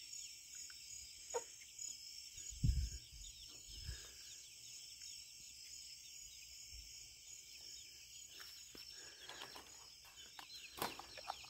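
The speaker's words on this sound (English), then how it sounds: "The chickens were sleeping up there." Chickens settled on a night roost make a few soft, scattered clucks and low murmurs, heard faintly over a steady chorus of crickets and insects on a homestead after dark.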